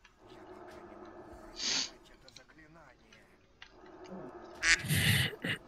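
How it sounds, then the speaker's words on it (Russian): Short duck-like quacks break in twice over a dim background murmur, once near the middle and again as a louder burst of squawks toward the end, with people talking now and then. "Кто крякает там"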